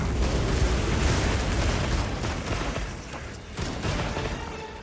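Flaming ammo shots exploding in Monster Hunter Wilds, heard as a dense, continuous roar of blasts and crackling bursts, loud and sustained throughout.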